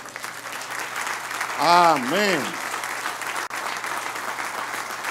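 A church congregation claps at a Sunday service, steady applause running throughout while a voice briefly sings or calls out over it midway.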